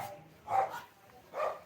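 A dog barks twice, a pair of soft, muffled woofs roughly a second apart, heard from a distance at low level over quiet room noise.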